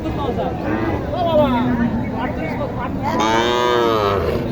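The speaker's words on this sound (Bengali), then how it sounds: "কিছু খামার উপযোগী ছোট ছোট সাইওয়াল বকনা গরু দেখানোর চেষ্টা করব" Young Sahiwal heifers moo in several loud, rising calls at the Wednesday Mataji cattle market in Mahadevpur, Naogaon, close by amid crowd murmur and someone talking.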